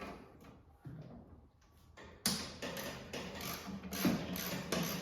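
Ratcheting 3/8 socket loosening sheet metal screws on the bottom plate of an Ariens 624E snowblower, a run of quick clicking and metallic ticks, starting faint then louder and close in the second half, with no talking.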